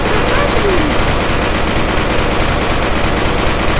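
Rapid bursts of modded-weapon gunfire from the Melon Playground video game, a loud, dense rattle of continuous automatic shots that fills the whole stretch without pause.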